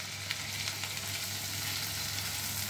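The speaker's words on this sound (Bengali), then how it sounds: "আরো 1 মিনিট মতো পেঁয়াজ রসুন আদাটা ভেজে নিয়ে আমি দিয়ে দিচ্ছি কেটে রাখা টমেটো।" Onion, garlic and ginger with added chopped tomato fry in a pan for paneer butter masala, giving a steady, close sizzle with a few faint stirring taps and no talking.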